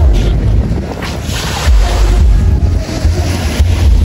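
Waves at Siloso Beach on Sentosa Island, Singapore, washing in a loud, continuous surging roar mixed with strong wind buffeting the microphone, with no voices.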